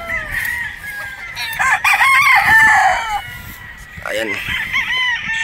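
A pikum gamefowl stag, a 3/4 sweater, 1/4 Boston rooster, clucks and crows in loud, close bursts, with a brief spoken word at one point.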